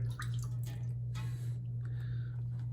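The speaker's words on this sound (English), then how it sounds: "I'm gonna add a little bit more water to it" Water dribbles into shave cream, soft close drips and wet squishing over a steady low electrical hum.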